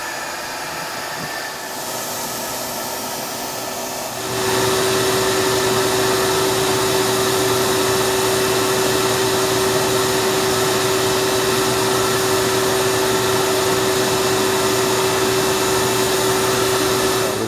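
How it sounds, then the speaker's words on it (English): A vacuum cleaning out a clothes dryer vent roars steadily after a quieter start, rising sharply to a loud, constant whine with a sustained hum that holds to the end. "And now we're gonna hook the vacuum."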